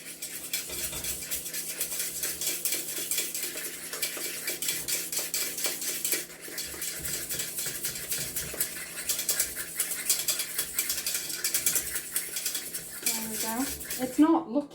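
Eggs and sugar being stirred in a mixing bowl for an apple sponge pudding, a steady run of utensil scraping and clinking against the bowl that continues throughout at close range.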